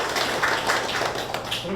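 Audience applause at the 8th Jecheon Cultural Center exhibition event, a dense, steady wash of many hands clapping close by, holding at an even level for the whole stretch.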